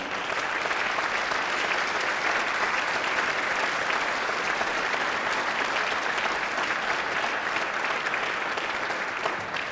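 Sustained audience applause, dense and steady clapping from a large crowd throughout, with no voices standing out.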